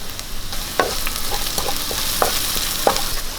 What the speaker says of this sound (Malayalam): നമ്മുടെ ഉള്ളിയൊക്കെ വഴന്ന് വന്നിട്ടുണ്ട്